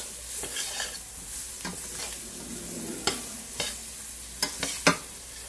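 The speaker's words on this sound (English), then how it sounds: "we're going to let this just continue to like a saute" Sliced onions sautéing in browning gravy in a pan: a steady hiss of frying punctuated by several sharp scrapes and knocks of a utensil against the pan, close and moderately loud.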